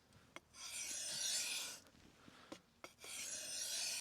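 A file dragged along the beveled edge of a hide fleshing tool, close rasping strokes in three long passes separated by short pauses and clicks.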